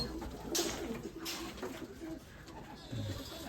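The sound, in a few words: pigeons cooing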